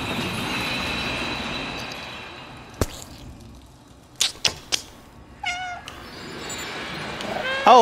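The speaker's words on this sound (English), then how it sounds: "Oh, it heard the meowing?" A cat meows twice in the video game Stray, a clear rising meow and then a shorter one, over industrial game ambience with a train-like rumble and sharp metallic clanks.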